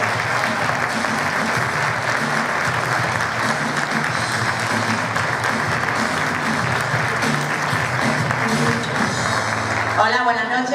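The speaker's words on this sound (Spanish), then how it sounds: "¡Fuerte el aplauso!" A comedy show audience in a cultural venue breaks into strong, sustained applause, dense and continuous throughout with faint crowd noise, easing only in the last moment.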